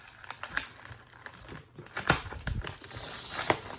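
A Magic: The Gathering Ixalan booster pack wrapper crinkles and tears open in a few close bursts of foil crackling with brief pauses between them.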